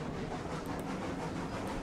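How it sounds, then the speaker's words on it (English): A Shay steam locomotive running slowly in RailRoads Online, a steady dense rumble and chuffing hiss with no clear breaks, fairly close and even throughout. "I've been told it's just a switching locomotive mainly"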